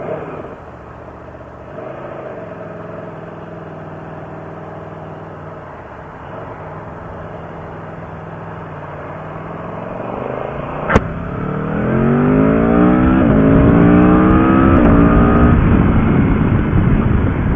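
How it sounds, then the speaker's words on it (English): An Aprilia Tuono V4 1100 Factory motorcycle's V4 engine hums at steady revs, then climbs through rising, throaty revs as the bike accelerates, loud and close with wind noise. "Gotta love the way the V4 sounds."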